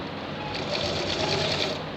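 A sewing machine runs steadily as it stitches a shirt seam, its fast, even mechanical whir continuing without pause at close range and with no talking.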